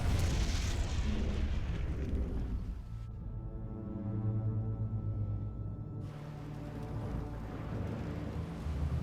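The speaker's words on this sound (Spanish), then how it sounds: "Después de una larga espera, oyen una explosión." Distant torpedo explosions striking a troop ship at sea, deep rumbling booms with a long low roar, heavy and muffled, rising again toward the end.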